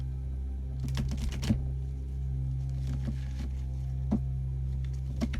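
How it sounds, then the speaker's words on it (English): Cards from an oracle deck are shuffled in quick soft flurries of riffling and tapping, a few clusters over several seconds against a steady low room hum, with no talking. "We're gonna shuffle the deck right now."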